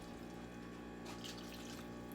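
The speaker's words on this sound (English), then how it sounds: "Maybe a little bit more water." Water pours steadily into a 5-quart pot of pasta sauce, making a continuous, even splashing rush that briefly grows brighter midway.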